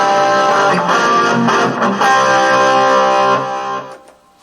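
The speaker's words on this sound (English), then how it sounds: "Overdrive 1 plus distortion" Electric guitar played through a Boss GT-100 multi-effects unit set to overdrive plus distortion, a loud sustained crunchy chord ringing for several seconds before being cut off, alone with no talking.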